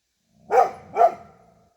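Two sharp dog barks about half a second apart, fairly close and clear, with a short fading tail and quiet outdoor air around them.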